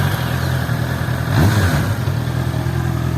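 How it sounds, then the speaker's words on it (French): A Honda CBR 650 R inline four-cylinder engine runs steadily close by with a smooth, even hum, rising briefly in a short rev before settling back to idle. "On va écouter un peu la sonorité du 4 cylindres en ligne"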